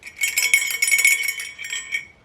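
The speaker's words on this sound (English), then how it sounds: "is just a decorative bell with a horse on top of that." A small decorative metal bell topped with a horse figure jingles in a rapid, shimmering shake, close and bright, tapering off after about two seconds.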